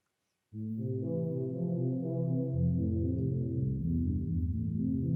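A low, warm Prophet 5 synthesizer melody plays sustained tones with a slow, moody feel, starting after a brief silence and continuing steadily.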